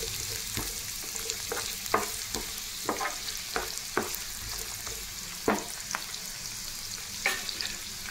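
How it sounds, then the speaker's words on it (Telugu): Chopped onions sizzle steadily in hot oil in a pan for a dry fish tomato curry while a spoon scrapes and stirs them in irregular strokes, close and continuous, with no talking. "ఈ ఉల్లిగడ్డ ముక్కలు ఇందులో వేసుకోవాలండి. ఇందులో వేసేసుకొని"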